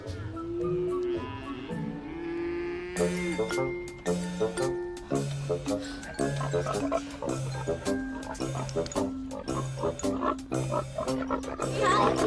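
Pig oinks and grunts sound over a bouncy, cheerful tune of stepping notes with light chiming accents.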